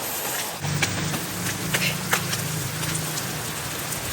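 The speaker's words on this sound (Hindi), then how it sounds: "फुल तेज़ बारिश हो रही है।" Heavy rain pours steadily in a dense, even hiss, with scattered louder drops splashing nearby.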